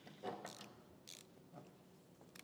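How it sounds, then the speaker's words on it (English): A small, high-quality ratcheting screwdriver gives a few faint, quick clicks in short separate bursts, heard close up during window tinting work on a Honda Accord. "it's a little really high quality ratcheting screwdriver."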